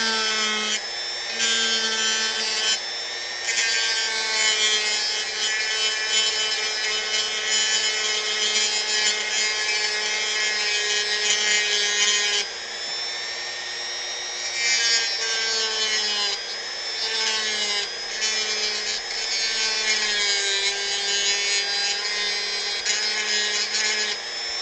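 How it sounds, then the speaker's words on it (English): A Dremel rotary tool grinds steadily into a carved wooden model sniper rifle, a high, whining motor pitch running almost nonstop with brief dips as the bit lifts and bites again. "if you're not used to using a Dremel for this type of thing, this probably isn't the type of project to start with"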